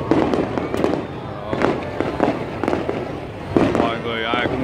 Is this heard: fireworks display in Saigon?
yes